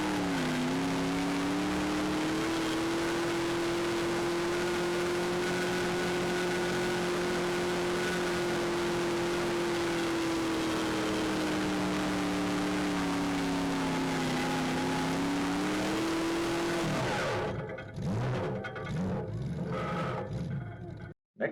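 A pulling tractor's engine labours under heavy load on a sticky, gluey track, a loud sustained roar that sags and recovers in pitch for about seventeen seconds before breaking into rougher, choppier bursts at the end.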